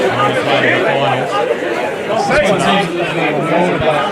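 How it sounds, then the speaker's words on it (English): Large crowd at a football derby, a semi-final between Hamilton Olympic and Broadmeadow Magic at Darling Street, giving a steady dense roar of chatter and voices throughout, with a few low thumps near the end. "the crowd getting involved, a massive crowd at Darling Street tonight"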